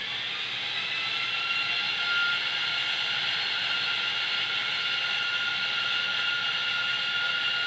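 A steady high-pitched jet-like scream from a model jet train running along the track, constant and fairly loud with a faint hiss beneath, no voices.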